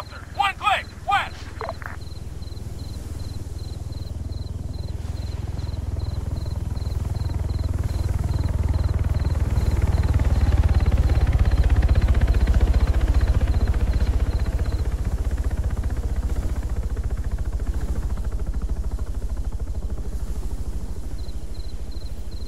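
A helicopter in the military game Arma 3 drones in low and rumbling, growing louder toward the middle then easing off, after a few sharp clicks at the start and a faint repeating beep.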